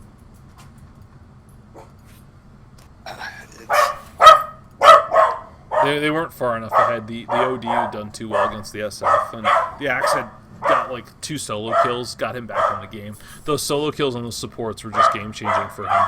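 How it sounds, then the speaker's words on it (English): A pet dog barks in short bursts near the microphone while someone talks continuously over it, commenting on a Dota 2 match. "Sorry about my dog barking"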